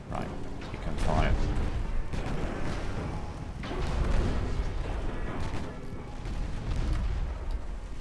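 Ship guns firing in a naval video game, heavy booms rolling under a continuous low rumble of engine and sea noise, loud and dense, with a voice talking over it.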